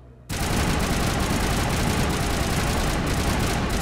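Sustained automatic gunfire from weapons in the video game Mass Effect, a dense, loud, continuous burst of rapid shots starting abruptly and holding steady without talk.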